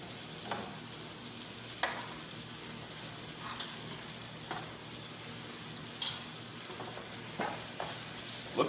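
Taco Bell style seasoned meat filling sizzling in a pan, a soft steady crackle and hiss at low volume, broken by occasional louder pops and scraping stirs at irregular intervals.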